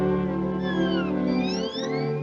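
A cartoon cat meows in a long, drawn-out, wavering call with rising and falling pitch, clear and close, over a sustained musical background.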